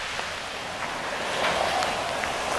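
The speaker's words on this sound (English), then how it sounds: "It's raining out." Steady rain falls outdoors at a heritage railroad, a continuous hiss of drops that swells slightly midway, with no talk over it.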